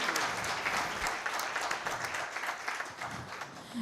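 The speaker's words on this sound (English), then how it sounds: "Let us have a huge round of applause once again for Senior Advocate Saurabh Soparkar ji." Audience applause at a tax conference, steady dense clapping from a large crowd sustained throughout without talk.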